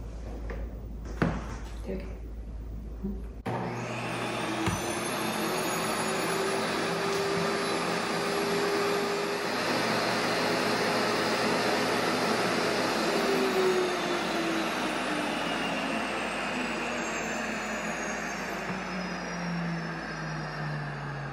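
Electric countertop grain mill grinding wheat berries into flour, a steady loud motor whine with rising and falling pitch tones running for most of the stretch after a brief start, no talking over it.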